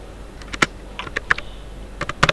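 Keys tapped on a computer keyboard while writing HTML code, a short run of sharp, close clicks in uneven clusters over a quiet background.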